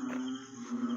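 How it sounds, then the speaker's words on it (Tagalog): Night frogs croaking in a continuous droning chorus, steady and moderately faint, with no voices present. "Ingay na lang ng palaka yung nadidinig ko."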